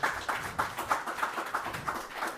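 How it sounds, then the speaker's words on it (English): Rhythmic clapping from an audience at a press conference for Ghana at Expo 2020 Dubai, sparse and fairly quiet, with roughly regular claps about every third of a second. "Let's give a round of applause."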